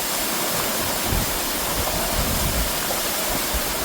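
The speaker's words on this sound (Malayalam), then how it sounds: "2 ലെയറായിട്ടുള്ള അതിമനോഹരമായിട്ടുള്ള ഒരു വെള്ളച്ചാട്ടം കൂടി തന്നെയാണ്." A two-tiered waterfall at Palur Kotta roars with steady, dense rushing water, a continuous broadband wash close by with no voices.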